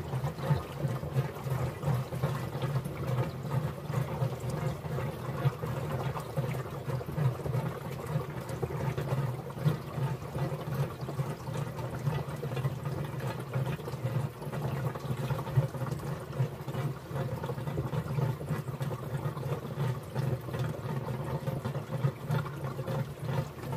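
Water pours steadily into a tank on a dock, a continuous rushing trickle with low, rumbling body that stays even and moderately loud from start to finish.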